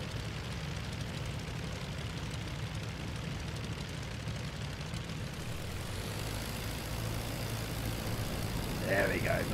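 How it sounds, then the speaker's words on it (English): A World War I aircraft engine in the flight sim Rise of Flight runs as a steady, loud, low propeller drone that holds for the whole stretch, with a thin rising whine near the end. "Let's fire the old beast up."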